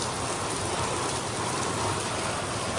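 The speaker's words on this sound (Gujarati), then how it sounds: "વરસાદ પણ આજે બહુ આવ્યો છે" Heavy monsoon rain pouring down steadily, a dense, continuous hiss of drops on surfaces with no pauses, fairly loud and close.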